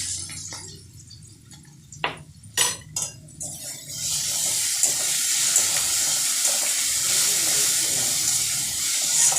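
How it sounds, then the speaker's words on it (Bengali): Ghee, about one spoonful, heats in a kadai with a steady, bright hiss and sizzle that takes over after a few seconds of quiet clinks and soft handling noises. "কড়াতে ঘি গরম করছিলাম, 1 চামচ ঘি দিয়ে দিলাম।"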